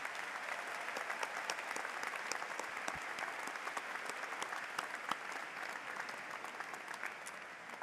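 Sustained applause from a university commencement audience honoring faculty, steady dense clapping throughout with no speech over it, moderately distant in a large ceremony space.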